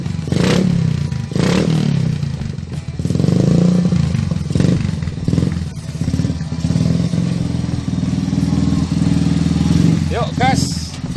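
A modified, custom-built Yamaha Byson motorcycle engine runs at a steady idle, loud and close, with a low throbbing tone and a brief rev near the end while people talk over it.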